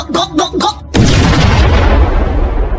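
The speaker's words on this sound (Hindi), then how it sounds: "ग्रैनी के मुंह में एक बहुत बड़ा बम डाल देता है" A big firecracker bomb bursts in a Diwali cartoon, one loud booming blast followed by a long rumbling tail, after a brief spoken line.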